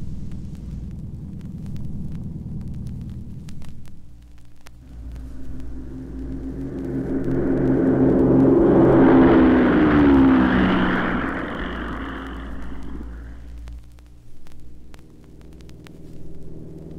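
A Cessna propeller airplane takes off from Santa Monica, its engine hum building from a low idle rumble into a loud roaring climb that peaks mid-way and then recedes, steady throughout with no voices.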